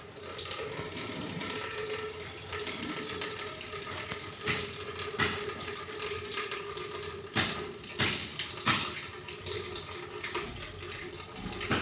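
Lukewarm water pouring from a specially shaped neti pot during jala neti nasal cleansing, a steady trickling flow with a few louder splashes and drips, close and fairly quiet, with no talking.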